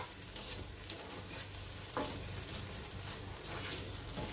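Bread masala with a spoonful of ghee stirred in a pan on the gas stove, a soft steady scraping and faint sizzle continuing for several seconds with one sharper scrape midway.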